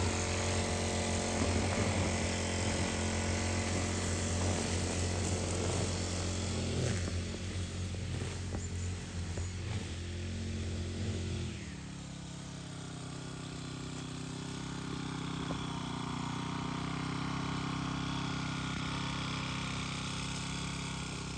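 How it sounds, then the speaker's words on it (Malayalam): A motorized machine cuts plants and grass at Vazhani Dam with a buzzing, droning engine that runs steadily for about half the time. It then cuts out, leaving a quieter background. "അവര് പ്ലാന്റ്സ് കട്ട് ചെയ്യുന്നതിൻ്റെ വോയിസ് ആണ് കേട്ടോ."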